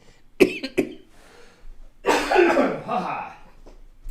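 Two sharp coughs ring out close by, followed by a person talking with a hoarse, throaty voice.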